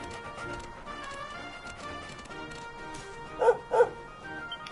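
In the video game Dragon Quest 11, a dog gives two quick, loud barks near the end, standing out over a light musical backdrop with clip-clopping in the scene.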